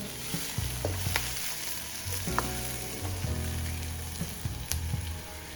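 Onions stir-fried in a pan sizzle steadily while a utensil scrapes and taps against the pan in irregular strokes, close and moderately quiet.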